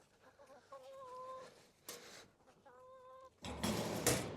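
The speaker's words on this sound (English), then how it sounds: "There was in fact a chicken in there." A rescue chicken gives a few drawn-out, tonal clucks inside a coop, then scratching and rustling bursts follow, close and fairly quiet.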